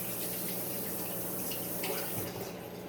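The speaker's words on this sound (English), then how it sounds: "let me wash my hands real quick." Hands being washed under a running tap, a steady close rush of water with slight splashing changes as the hands move through the stream, continuous and moderately loud.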